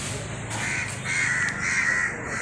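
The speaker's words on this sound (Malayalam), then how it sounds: "കാക്കകൾ അതുങ്ങളെ കണ്ടിട്ട് അതുങ്ങളെ കൊത്താൻ വേണ്ടി പുറകെ പായുണ്ട്" Several crows caw harshly and repeatedly while chasing animals through the Thiruvambady market town, their calls carrying over a steady outdoor hum, fairly near and without any voices.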